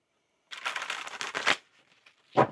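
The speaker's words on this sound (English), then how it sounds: "One more shuffle" A deck of tarot cards being shuffled up close: a second-long run of rapid riffling flutters, then a quiet pause and a short final snap of cards.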